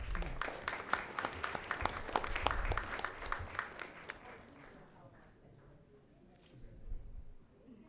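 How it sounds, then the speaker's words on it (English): Audience applause at a school board meeting, a dense spell of clapping for about four seconds that then fades to quiet room tone with a brief swell near the end. "We'll just keep the applause running."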